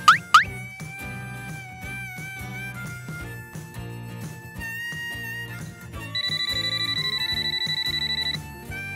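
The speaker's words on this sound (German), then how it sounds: "Hörst du das Telefon klingeln?" A telephone rings inside a house fitted with a smart-home system, a synthetic electronic ringtone trilling in a repeated pulsing pattern over background music, fairly loud and close, with no talk.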